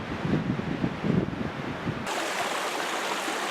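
A small brook runs down a wooded hillside in spring, its steady rushing water close and continuous, with a brief wind-like shift in tone partway through.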